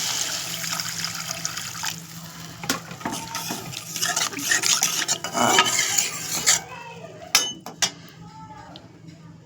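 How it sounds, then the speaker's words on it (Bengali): Water poured into a pan of fried, cooked-down spices for a Bengali bhola fish curry, giving a splashing, sizzling rush with clinks of a utensil against the pan, fairly close and without talk. "এবারে আমি জল দিয়ে দেবো।"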